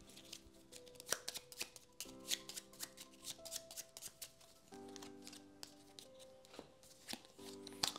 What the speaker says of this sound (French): Les cartes sont défaussées, et on repioche 4 nouvelles cartes.